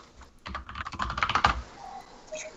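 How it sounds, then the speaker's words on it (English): Quick bursts of clattering keystrokes on a computer keyboard during a live online video call, close and fairly loud, followed by a brief pause and a faint tone. "Who's typing?"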